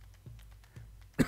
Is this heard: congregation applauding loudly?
no